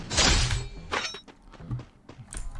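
A bomb goes off in the Free Fire video game, one sharp loud thudding blast with a shattering burst, followed by a few fainter knocks and thumps.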